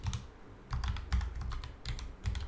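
Fingers type on a computer keyboard in quick clustered bursts of close, crisp key clacks with short pauses between words, and no voices.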